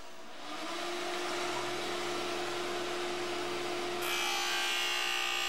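A skate sharpening machine's grinding wheel cross-grinding a hockey skate blade gives a steady, close motorized whine with a fixed hum, growing louder and brighter near the end as the wheel bites harder.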